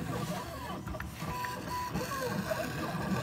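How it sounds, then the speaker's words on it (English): A 1999 Gravograph engraving machine with a diamond drag bit runs steadily, giving off a continuous mechanical whir and scratching with faint tonal whines, close and constant, with no talk. "There's not too many engraving machines out there today that can perform as well as this 1999 version."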